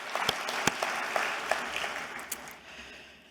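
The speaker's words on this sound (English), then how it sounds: "You should give yourselves a round of applause." A conference audience at the National Aged Care Provider Conference breaks into a moderate, fairly distant round of applause, with sharp individual claps standing out before it fades.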